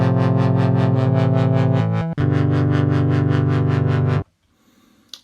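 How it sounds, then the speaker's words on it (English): OB-Xd synthesizer, modelled on the Oberheim OB-X, holding a sustained chord while an LFO sweeps the filter cutoff in a steady rapid wobble, loud and close, with a brief gap midway and a faint tail at the end. "You can hear the LFO modulating the frequency on the cutoff on the filter."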